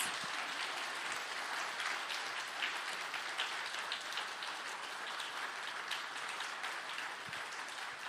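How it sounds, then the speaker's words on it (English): A conference audience claps for two finalists at an education summit, a dense, even wash of applause that holds steady throughout at a moderate, somewhat distant level. "Can we just please clap hands for the two finalists?"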